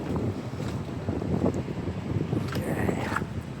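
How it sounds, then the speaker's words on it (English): Breezy wind buffets the microphone outdoors at the Halifax Public Gardens, a steady rumbling gust with a few brief higher rustles near the end, no voices. "A little breezy, but it's all right."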